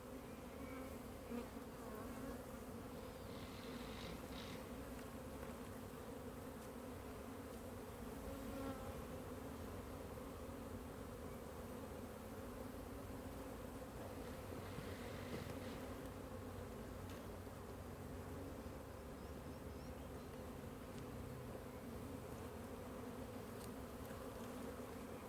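Bees at a hive inside a fallen tree hum in a thick, unbroken drone that stays steady and close, with no voices over it.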